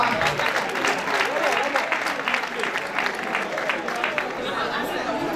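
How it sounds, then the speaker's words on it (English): Audience at a national anti-drug abuse competition award ceremony clapping steadily, a dense crowd applause that holds throughout with some murmured chatter. "Let's clap for her."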